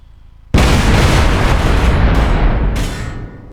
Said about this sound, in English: pretty pleasing explosion